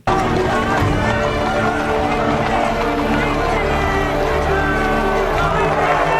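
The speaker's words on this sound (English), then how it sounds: "This is an actual crowd that they filmed on set, right?" A real crowd on a film set for a biblical drama, a dense, loud wall of shouting and clamoring voices with running footsteps and general commotion throughout.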